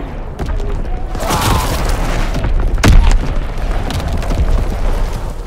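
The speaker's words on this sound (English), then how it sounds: "Firing for full effect! Target zone locked! 6X bomb!" Heavy artillery bombardment in a World War 2 video game, with dense, continuous rumbling explosions and a sharp louder blast near the middle, while a game voice calls out over the barrage.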